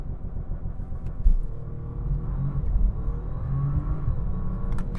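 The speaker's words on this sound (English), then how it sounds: "We're gonna come to a stop again, do another 0 to 60 run." Inside a Bentley Continental GT Speed during a 0 to 60 run, a deep engine rumble rises steadily under hard acceleration, muffled by the cabin, with a brief thump near the start and no talk.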